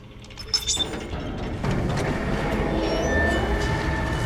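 A tram runs through a station aboard the Ishimura in the Dead Space game, giving a steady rolling rumble with metallic rattles and a brief squeal, holding close and loud throughout.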